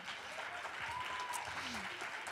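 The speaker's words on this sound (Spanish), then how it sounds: "Vamos a darles un fuerte aplauso a Isabel Cadenas y Carola Solé al escenario" Event audience applauds as two podcast speakers come on stage, a steady, fairly faint wash of clapping throughout with a voice briefly audible over it.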